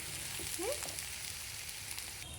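Green chili slits frying in a pan of oil for a curry, a steady broadband sizzle with faint stirring scrapes, close and moderately loud throughout.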